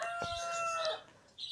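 Chickens in a yard in the morning, with a rooster-like crowing call drawn out for nearly a second over clucking, close and fairly loud, then a short fresh cluck at the end.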